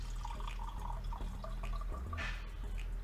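Fermented blackberry wine poured into a glass at a cidery, a steady liquid trickle over a constant low background hum, with a brief brighter splash near the end.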